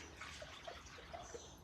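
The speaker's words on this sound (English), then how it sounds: "First we're going to pour in the water." Water poured into a cup for a home density experiment: a soft, close trickle and splashing with small drips, faint and continuous for under two seconds.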